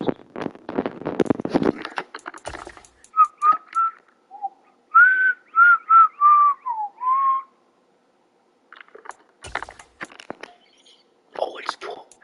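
A person whistles a short melodic tune of several rising and falling notes, alone between stretches of talk and game noise while playing Madden.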